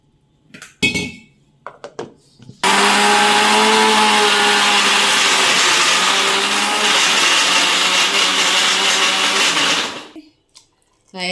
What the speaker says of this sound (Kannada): ನೈಸಾಗಿ ರುಬ್ಕೊತೀನಿ